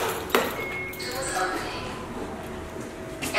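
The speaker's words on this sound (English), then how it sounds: "Elevator going up." Elevator arrival ping, a single short chime near the start over ambient lift noise and muffled voices.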